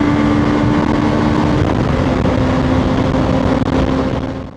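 A KOVE 510 X motorcycle engine roars steadily at full throttle, loud and constant, with wind buffeting the microphone before it tapers off at the very end.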